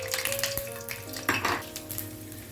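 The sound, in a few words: garlic frying in hot oil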